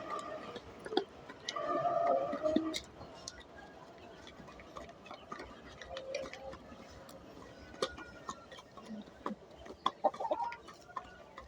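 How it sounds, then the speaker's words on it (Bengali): Tiger chickens peck at their afternoon feed on a farm beside a pond, with soft clucks and scattered sharp pecking ticks, a few louder calls early on, under a low outdoor background. "আপনারা দেখতে পাচ্ছেন আমাদের টাইগার মুরগিগুলোকে বিকালের খাবার দিয়ে দিয়েছি"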